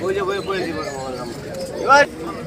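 Pigeons coo at a weekly pigeon market in Fatullah, Narayanganj, soft throaty calls sitting under someone talking close by, with one brief louder coo near the end.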